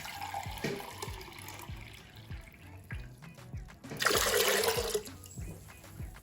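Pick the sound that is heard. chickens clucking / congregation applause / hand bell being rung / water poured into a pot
water poured into a pot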